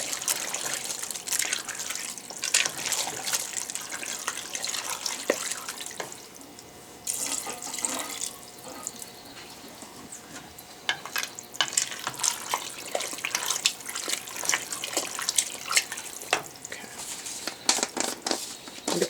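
Tap water runs into a pasta pot on a kitchen stove, a steady close splashing gush that dips briefly in the middle before resuming at full strength.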